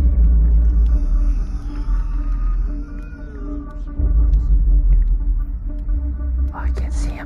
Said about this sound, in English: Love the constant thunder slashing.